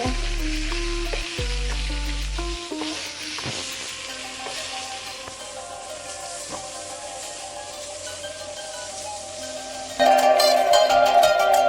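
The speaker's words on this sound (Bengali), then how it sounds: "মাছ ভাজি করে বেগুন ভাজি আবার দিয়ে দিয়েছি বেগুন ভাজি করতেছি" Eggplant slices frying in hot oil in a pan after fish, a continuous loud sizzle with a steady hiss, tonal clinks early on and a sharper burst of crackling near the end.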